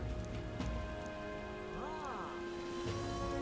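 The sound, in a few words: rain in video game Metaphor: ReFantazio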